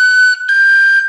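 Clear tin whistle notes from the third section of Cailleach An Airgid, a held tone broken by a quick tongued articulation and then sustained again, loud and close with no voices.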